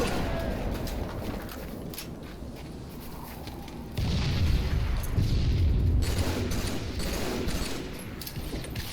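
A grenade goes off in Halo 3 matchmaking, a sudden loud boom about midway that lifts the level and rolls into a sustained low rumble over ongoing gunfire and game noise.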